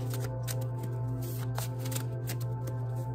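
Tarot cards being shuffled up close, a continuous papery riffle with repeated soft flicks and slaps, quiet and steady over a low electrical hum, with no one speaking.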